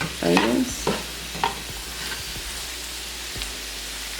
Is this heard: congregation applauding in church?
no